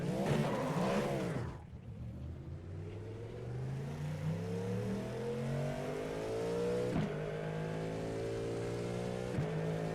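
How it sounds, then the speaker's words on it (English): A Cadillac GTP race car's V8 engine in the iRacing video game roars and revs, its pitch climbing steadily through the gears in one continuous, loud run with no talking. "you guys need to hear that V8 wave"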